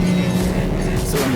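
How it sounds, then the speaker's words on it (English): A BMW M3 Sedan runs over racetrack curbs, giving a dense, continuous engine and road roar with a low rumbling underlayer, close and constant throughout. "It's fascinating to feel the car travelling so smoothly over the curbs."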